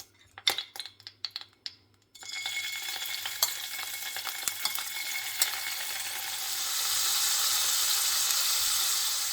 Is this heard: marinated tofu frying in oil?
yes